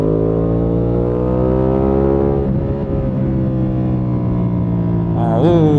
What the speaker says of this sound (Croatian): ovaj Ducati je zvuk, kako je dobro